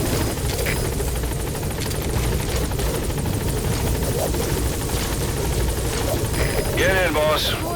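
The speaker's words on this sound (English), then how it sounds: "Support helicopter has arrived." Support helicopter from Metal Gear Solid V arriving at the landing zone: a loud, steady rotor drone throughout, with a voice coming in near the end.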